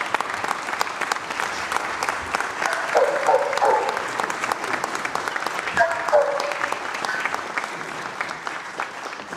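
An audience at a city council meeting applauds in a full, continuous round of clapping lasting several seconds, fairly close, with faint voices mixed in beneath it.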